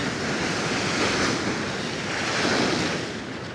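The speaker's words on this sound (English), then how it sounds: "that sea's just too rough. It just needs to die down a bit." Rough sea surf crashes and roars continuously against the shore, loud and close, with gusting wind buffeting the microphone throughout.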